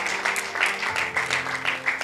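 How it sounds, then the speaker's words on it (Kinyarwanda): Congregation clapping inside a church, a dense steady patter of many hands filling the room for a couple of seconds, fairly loud and continuous. "tubashimire Imana amashyi menshi."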